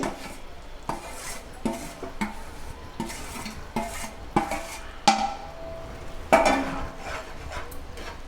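A thick tokkudu laddu mixture is stirred in a pan with a metal spoon, giving repeated scraping and clinking strokes at a steady rhythm, close and moderately loud, with no voices.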